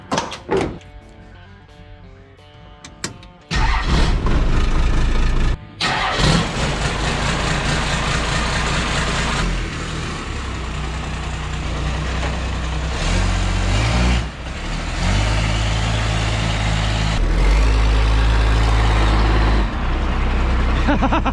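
A truck converted with a Cummins diesel engine swap starts up after a door thud, then a loud, heavy, low engine runs steadily nearby, with revving surges as it heads out on a test drive.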